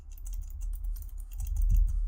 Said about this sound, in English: Oh, I'm just great at typing